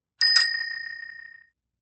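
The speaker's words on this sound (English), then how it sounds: "She flicked at the bike bell that was attached to the arm of her wheelchair." A bicycle bell clipped to the arm of a wheelchair is flicked, giving one bright ring struck twice in quick succession that then shimmers and fades away over about a second, alone and close.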